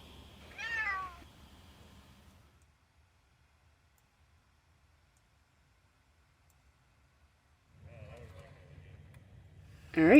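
Pet cat inside a camper van, meowing once near the start, then long silence before rustling and a final sharp meow at the end.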